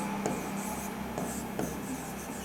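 Pen writing by hand on paper, close and quiet, with a continuous scratchy stroke sound and a few small taps over a low background hum.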